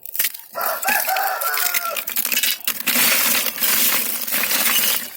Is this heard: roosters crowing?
yes